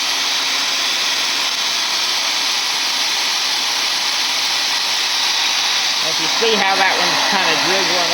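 A blow dryer runs loud and steady while drying spray-bottle paint, a continuous airy roar with a faint hum; near the end a voice briefly speaks over it.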